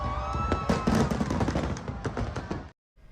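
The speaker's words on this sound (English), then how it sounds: "as pyrotechnics fill the air" Fourth of July fireworks burst in the sky as dense crackling pops and booms that overlap in a busy barrage, then cut off into near silence.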